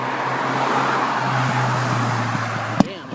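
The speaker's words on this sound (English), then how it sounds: "That was a backfire, not a gun, guys." A car engine backfires once, a single sharp bang near the end that cuts through a steady low engine and traffic hum.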